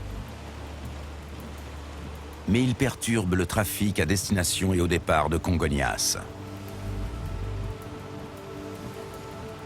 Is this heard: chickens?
no